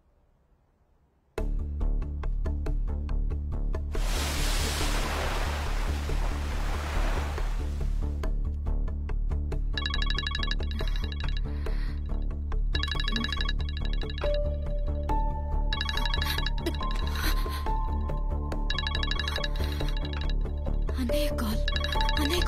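An incoming-call ringtone from a phone in a Telugu film scene plays as a repeating electronic melody over a steady background bed, with a loud rushing swell like surf near the start.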